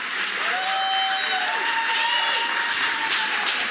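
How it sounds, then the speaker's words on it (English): Audience applause at an evening fundraiser at Rubi Agave, a steady wash of clapping lasting the whole stretch, with whistles and voices rising over it. "can we get a round of applause for Steve for putting us all together here tonight?"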